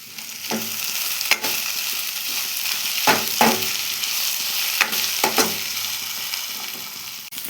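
Okra sautéing in oil for a Tamil vendakkai poriyal, a steady sizzle with a spoon stirring and scraping the pan in occasional clanks, close and alone without speech.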